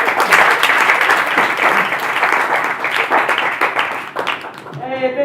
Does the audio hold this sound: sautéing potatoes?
no